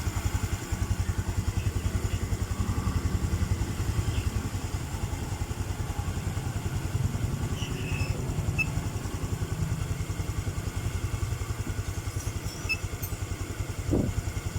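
A Honda Supra Fi motorcycle with a faulty O2 sensor running steadily close by, its engine thudding in a rapid, even idle throb with light mechanical clatter throughout, plus a brief knock near the end.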